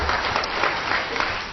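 Church congregation applauding during a sermon, a steady, dense wash of clapping from many hands that holds at an even level throughout, close and filling the room.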